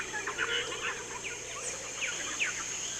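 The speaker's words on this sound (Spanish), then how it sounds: "podemos escuchar entremezclados los gritos de los monos, trinos de pájaros y reclamos de todo tipo" Birds singing in the Peruvian jungle, with short chirps and trills scattered over a faint, steady insect-like hum; no monkey calls are distinct.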